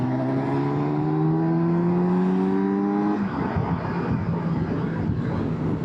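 A 2025 Kawasaki Versys 1100 motorcycle accelerates hard in a loud, close, rising engine whine that climbs steadily for about three seconds, then breaks into a rougher, noisier roar as the bike completes an overtake, with steady wind rush throughout.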